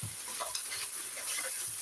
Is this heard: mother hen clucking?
no